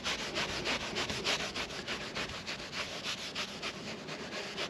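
A pad rubs cleaning spray into leather to lift sun cream, giving a steady run of rapid, rhythmic scrubbing strokes, close and fairly quiet, with no talk.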